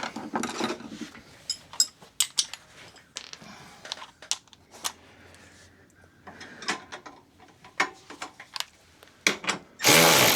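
Bursts of a power tool whirring in short pulses with ratcheting clicks between them, close by, tightening a bumper bolt on a Polaris Ranger 570 Mid-Size, ending in a louder sustained burst.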